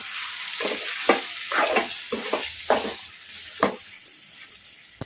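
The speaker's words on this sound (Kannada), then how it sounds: "ಈಗ ಕಲಿಸ್ಕೊಂಬಿಡೋಣ." Chicken fry with masala powder being stirred in a frying pan over a medium flame, with repeated scraping strokes of the spoon against the pan over a steady sizzle, ending in a few sharp taps.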